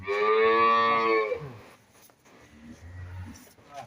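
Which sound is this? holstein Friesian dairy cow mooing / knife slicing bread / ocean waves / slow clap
holstein Friesian dairy cow mooing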